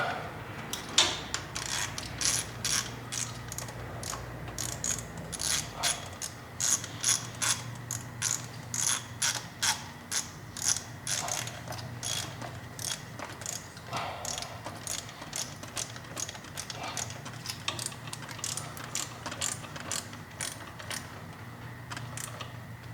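Ratchet wrench with an extension clicking in rapid, steady bursts as thermostat housing bolts are snugged on a Honda Civic, close and fairly loud, with brief pauses between runs of ticks.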